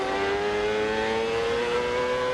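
A Honda-powered CART race car engine at the 1999 Long Beach Grand Prix holds a steady high-pitched whine that shifts slightly as the driver short shifts to third gear, loud and continuous with no voices.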